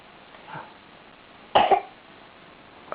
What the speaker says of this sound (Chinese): 谁唱歌唱到咳嗽？